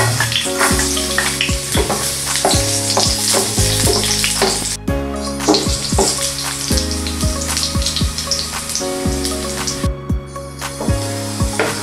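Garlic frying in hot cooking oil, a dense continuous sizzle with frequent spoon or spatula scrapes and clicks against the pan, close and loud, with no voices.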